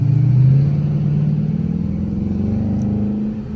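An 800hp-plus widebody Dodge Charger R/T Hellcat on the move, its engine giving a deep, steady, close rumbling drone that swells slightly early and then holds as a constant low growl with no voices.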